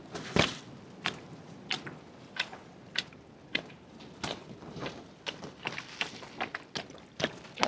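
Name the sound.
watering planted peas with a watering can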